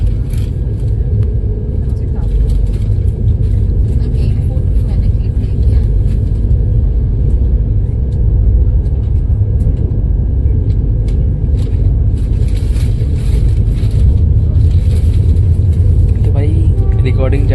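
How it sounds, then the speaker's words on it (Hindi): Vande Bharat express train on the Chennai–Mysuru route gathering speed, a loud steady low rumble and motor drone throughout, heard from inside the coach with faint voices in the background. "तो भाई वीबी का एक्सेलरेशन कुछ देख सकते हो आप"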